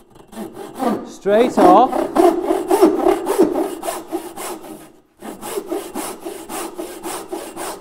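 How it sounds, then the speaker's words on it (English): A frame saw rips through wood in steady rhythmic strokes, close and loud, with a brief pause before sawing resumes; someone says a few words at the start. "I just want to show you what this saw will do."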